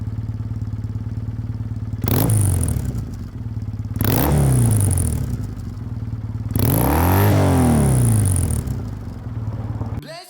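A Triumph T100 motorcycle engine idles close to the mic with a steady low throb, broken by three short throttle blips that swell and fall back to idle before cutting off at the end.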